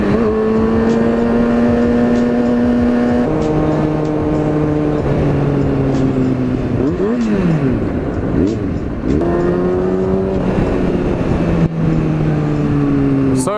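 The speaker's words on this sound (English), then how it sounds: "Also kind of waiting for the engine to warm up. Just going around the block." A Kawasaki ZX-6R, a former track bike rebuilt to be street legal, rides around the block while its engine warms up, its close, loud drone rising and falling in pitch through throttle changes and shifts.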